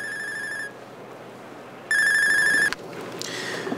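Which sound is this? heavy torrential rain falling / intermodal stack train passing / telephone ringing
telephone ringing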